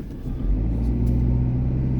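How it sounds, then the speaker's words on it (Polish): An FSO Polonez MR89 car engine idles steadily after starting, a low, even rumble that holds throughout with no talking. "Auto jak widzieliście ładnie odpaliło"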